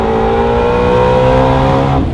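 A 2020 Ford Mustang Shelby GT350 engine revs up in a steady, loud rising drone, held close for about two seconds.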